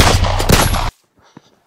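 A single loud, sharp gunshot-like blast cuts off abruptly into near silence, followed by a faint, brief knock.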